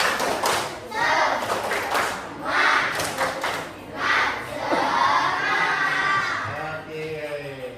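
A classroom of children performs a rhythmic spirit clap, bursts of quick clapping in repeated patterns mixed with shouted chanting voices and thumps, rising and falling in several waves.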